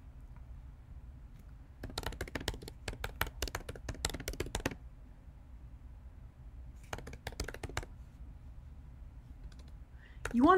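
Quick bursts of computer keyboard typing, crisp clicking keystrokes in two spells, a longer run followed by a shorter one, with quiet pauses between.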